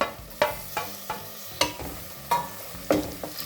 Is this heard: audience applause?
no